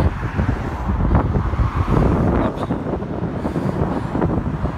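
Strong wind buffets an outdoor microphone on a blustery coastal lookout facing the Ryfylke fjords in Norway during a 17 May celebration, producing continuous loud low rumbling and gusting roar with no speech.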